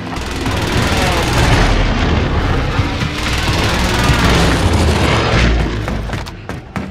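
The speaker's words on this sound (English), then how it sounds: "Airstrike target designated." Airstrike explosions in Call of Duty Warzone on Rebirth Island: dense, loud rumbling booms and gunfire crackle rolling continuously, with sharp bursts near the end and no talk.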